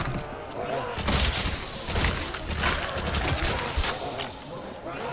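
Rapid gunfire in World at War Zombies, level Night of the Living Dead: dense, continuous bursts of automatic shots with sharp cracks, loud and close, running through the whole stretch under a speaking voice.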